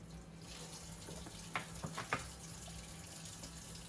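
Water runs from a sink faucet in a quiet room, a soft, steady trickle with a few brief splashes partway through.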